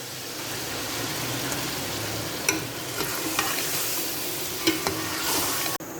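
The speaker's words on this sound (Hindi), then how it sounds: "यहाँ मैंने दही को चिकन के अंदर अच्छे से मिक्स कर लिया।" Chicken being stirred together with whisked yogurt and ground garam masala for a Degh-style shahi chicken korma, giving a steady wet scraping and sizzling texture with a few sharper clicks of the spoon against the pot.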